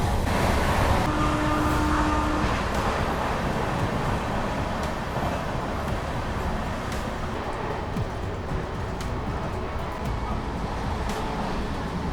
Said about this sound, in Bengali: এখন কিন্তু ট্রেন বর্ধমান জংশন কিন্তু ছেড়ে দিল